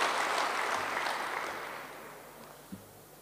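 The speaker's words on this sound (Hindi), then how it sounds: "तो अपने लिए ज़ोरदार खुशी की ताली बजाइए।" Audience clapping in applause at a spiritual gathering, a dense wash of hand claps that starts full and steadily fades away.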